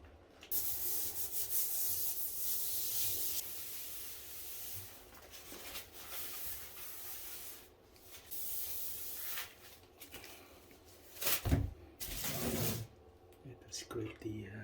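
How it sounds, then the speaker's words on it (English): Scraping stain buildup from the bottom of a drain in a home DIY job: sustained rough rubbing and scratching strokes, fairly close, with pauses and a few louder knocks, while a person talks over it. "Scrape the bottom, all the stain build up."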